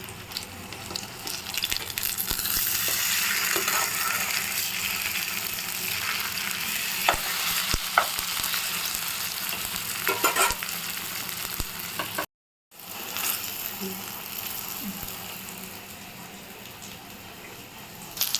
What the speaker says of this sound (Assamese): বাকী থকা কেইডোখৰো ঠিক এনেকৈ পিঠাগুড়ি বেচনৰ পেষ্টত লেটিয়াই লৈ ভাজি ল'ব